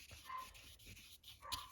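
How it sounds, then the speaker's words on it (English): Dogs bark in the background, a few muffled yips and woofs spread across the moment, fairly faint and indoors-sounding. "can you guys hear my dogs barking?"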